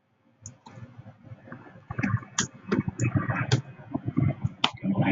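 Computer mouse clicks while working in EZStation camera software, a quick irregular run of sharp close clicks, some faint rustling between them, no voice.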